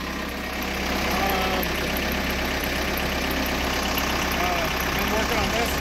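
A tractor engine idling at a building site for a ground-mounted solar stand: a steady, low mechanical rumble that holds constant for several seconds, fairly close, with faint background sounds over it.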